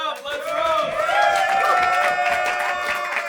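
Comedy club audience at a roast battle in New York cheering and clapping, with loud whoops and shouted voices over a dense layer of applause that swells and stays strong across the moment.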